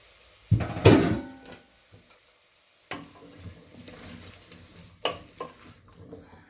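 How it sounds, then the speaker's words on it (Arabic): Vegetables for a lentil soup with chicken are stirred in a hot oiled pot, with loud scraping and clattering strokes and softer frying sizzle between them; no talking. "هادشي خصو يتشحر مزيان ضروري"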